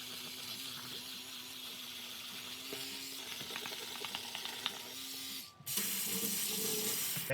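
Tap water running steadily into a sink while vintage snapback caps are rinsed, a constant hiss and splash with faint handling clatter, then the flow suddenly cuts off and resumes more strongly near the end.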